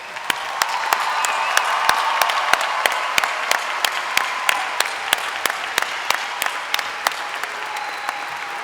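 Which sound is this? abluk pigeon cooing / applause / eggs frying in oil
applause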